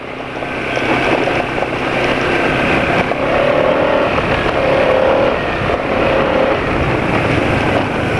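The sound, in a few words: engine running rough with extended air intake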